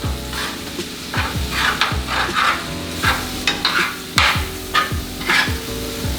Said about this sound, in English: So we're going to deglaze it.